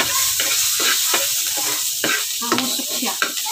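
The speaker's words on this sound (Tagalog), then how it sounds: "So, ilagay na natin yung sibuyas. Gigisa na natin siya." Sliced onion sautéing in a pan with dried fish, a bright sizzle broken by repeated spatula stirs and scrapes, close and fairly loud, with a little background voice.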